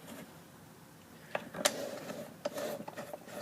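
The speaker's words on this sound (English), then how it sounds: "you get to sit through watching me screw in some cap screws" Metal cap screws are driven by hand into a wooden neck-carving jig, giving soft ratcheting clicks and a few sharp ticks, quiet and close, with no talk.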